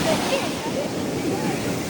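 Sea waves wash continuously on a Kerala beach at sunset, heard as a broad, even surf roar mixed with wind buffeting the microphone. Faint voices sit underneath.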